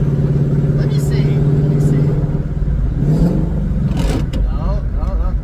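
A Coyote-swapped GT500 with a T56 manual gearbox revs steadily with a droning engine tone while downshifts are tried without the clutch, and voices talk over the engine throughout.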